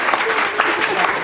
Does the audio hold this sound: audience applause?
yes